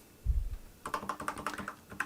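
Keys clack on a Razer BlackWidow V3 Mini keyboard with yellow switches, a close, quick run of crisp typing strokes in an uneven rhythm after a soft low thump, with no voices.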